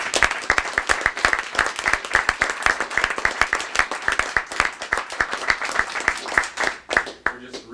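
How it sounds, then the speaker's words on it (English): A modest school board meeting audience applauds state champion swimmers with crisp, distinct claps in a steady patter that thins out toward the end, with voices murmuring underneath. "So let's give a big round of applause."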